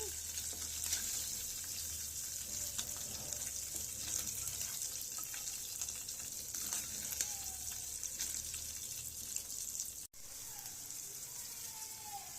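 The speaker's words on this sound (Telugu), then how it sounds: "మనం ఉల్లిపాయలు వేయించుకుంటున్నాం" Chopped onions frying in oil, a continuous close sizzle and crackle with occasional stirring, steady throughout with a brief drop near the end, no voices.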